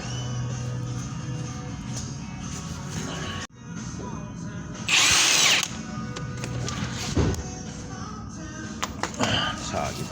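A power tool whirs and rattles up close as it spins a tie rod nut off a 2010 Ford Flex, ending in a short, loud high burst. Garage noise sits underneath, and someone speaks briefly.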